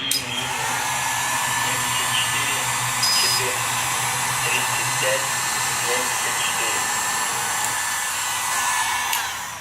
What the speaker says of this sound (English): So I'm going to use a heat gun.